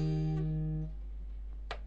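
Acoustic guitar playing a song, with the 4th and 2nd strings plucked together after a slide up: a single two-note pluck that rings and fades, then a faint light tap, quiet and alone.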